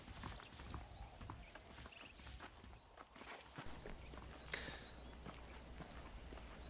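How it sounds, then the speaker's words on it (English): Saddled horses clip-clop in the Red Dead Redemption video game on Nintendo Switch, a soft, fairly faint patter of hoofbeats over low ambient game noise, with a quick bright chime partway through. "The horses are saddled up over here."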